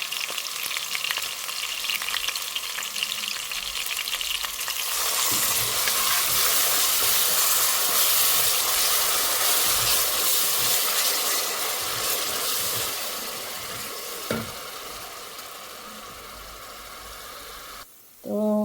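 Grated onion and salt frying in hot oil, a steady loud sizzle with stirring scrapes that runs the whole time and cuts out abruptly near the end.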